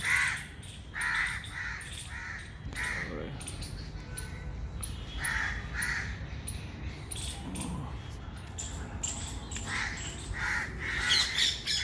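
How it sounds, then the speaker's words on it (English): Parrots call outdoors in a series of loud, harsh squawks repeated across the stretch, some near and some farther off, over a steady background hum of ambient noise. "It's nice parrot."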